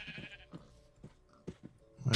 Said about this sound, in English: What we do need to do is let a sheep out.